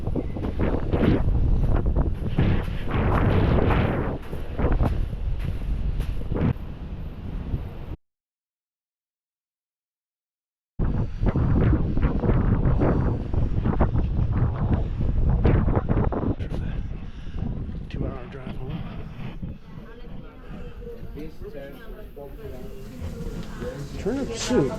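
Strong wind buffets the microphone outdoors in Iceland, a steady loud rumbling roar that cuts out briefly and then returns, with people talking at times.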